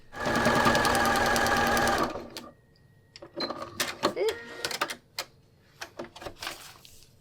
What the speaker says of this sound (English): now I'm going to sew on this side